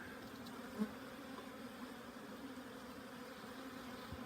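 Honey bees hum around an opened hive during a spring inspection, a faint, steady low drone running the whole time with no talk.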